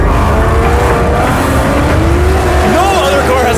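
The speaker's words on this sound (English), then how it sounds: "That's a real burnout from the Mopar." A Mopar pony car does a tire burnout, its engine roaring loud and close while squealing tires wail over a constant, heavy mechanical rumble. Excited voices mix in.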